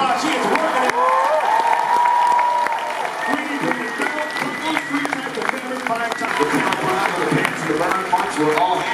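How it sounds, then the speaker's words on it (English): An audience at the New York Comic Con cosplay contest applauds in a sustained wash of clapping and crowd noise, with a voice talking over it throughout. "give her a big round of applause"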